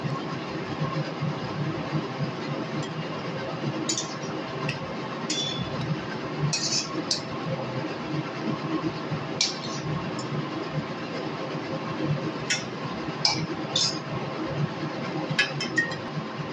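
Fried coriander leaf fritters (pakora) are lifted out of a frying pan over a steady background sizzle, with sharp, scattered clinks of a utensil against the pan recurring every second or two, close by.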